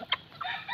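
A white Kelso chick gives a couple of quick, high-pitched peeps close by, short thin chirps spread across a brief moment.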